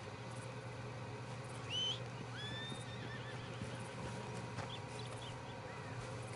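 A horse whinnies in Red Dead Redemption 2, a rising, squealing neigh near the middle, then fainter snorts and hoof clip-clops over a steady low hum and outdoor ambience with distant birds.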